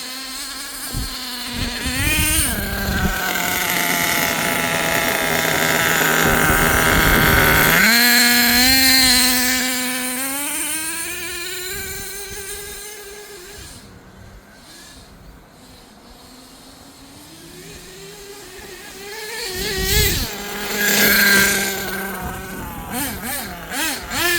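An HPI Savage XL V2 RC monster truck's engine revs up and down at partial throttle without shifting, a high buzzing whine that rises and falls in pitch, loud and close, with quieter stretches between bursts.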